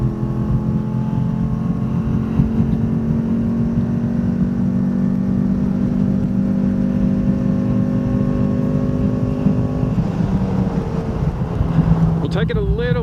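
Race car engine at full throttle at Phillip Island, heard from inside the car: a loud, sustained high-revving drone holds steady, then the pitch shifts near the end with a brief rising whine as the engine changes note.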